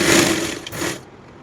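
A sewing machine stitches fabric for a toddler's coat, a loud, close, steady whirring run for about a second that stops abruptly.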